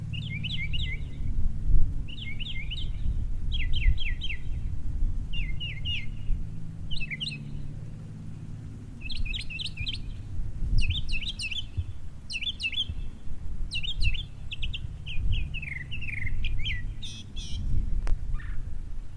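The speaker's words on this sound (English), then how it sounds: "It's just a bird." Bright bird chirps come in short repeated bursts over steady low rumble, some trills and tweets clustered, moderately close and clear.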